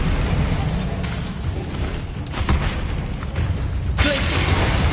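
Bombarda blasting spell in Hogwarts Legacy: loud booming magical explosions with heavy low rumble, a few separate bursts in quick succession over dense combat noise.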